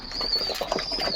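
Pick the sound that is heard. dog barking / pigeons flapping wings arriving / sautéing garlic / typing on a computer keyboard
pigeons flapping wings arriving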